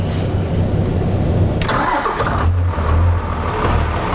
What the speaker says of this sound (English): So you can kind of hear at an idle there, it's kind of got that 12 valve sound to it.